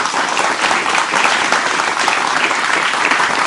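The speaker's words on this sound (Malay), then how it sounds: "Kita beri tepukan kepada ketiga-tiga ahli panel kita." Steady applause from an audience at a campus panel discussion, a dense wash of clapping that holds at a constant level throughout.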